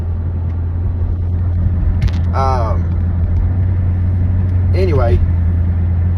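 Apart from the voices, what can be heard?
car driving past Bristol Motor Speedway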